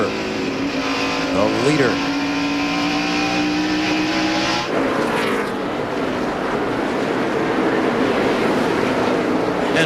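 NASCAR stock cars at the 2001 Sharpie 500 roar past at speed, loud engine drones sweeping in pitch as they pass, with a commentator talking over the racing noise.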